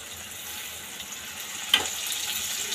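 Spice masala with ginger-garlic paste fries in a pan of oil for mutton pickle, giving a soft, even sizzle close by, with a brief stirring clatter midway and no talking.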